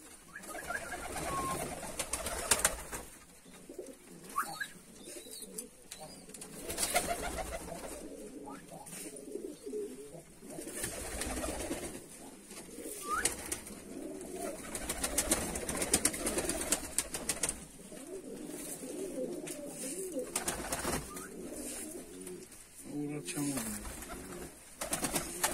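Fighting pigeons cooing in a loft in Georgia, soft repeated throaty coos from several birds close by, with rustling and wing movement throughout.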